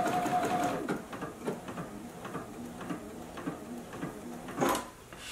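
A JUKI sewing machine stitches a fabric beverage coaster, its needle running in a steady, moderately loud mechanical patter with brief pauses and a click near the end.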